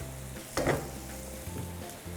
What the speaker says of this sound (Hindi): और अनियन को हम टॉस करेंगे